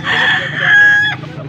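A young Peruvian Gilmore gamefowl stag, about nine months old, gives a single loud, close crow. It rises and holds a drawn-out strained note before breaking off, with a voice faintly in the background.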